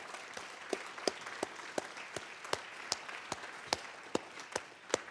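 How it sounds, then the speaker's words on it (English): Sparse, slow applause at an annual celebration event for a civic innovation lab group; a few distinct hand claps ring out one at a time in an even, spaced rhythm, fairly faint and without talk. "could you please stand up and so we can applaud for you."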